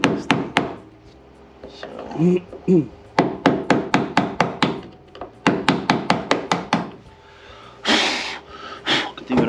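Hammer blows on a drift knocking dirt loose during a Foxbody Mustang fuel pump upgrade, loud close metallic strikes in rapid clusters with short pauses, a brief word spoken.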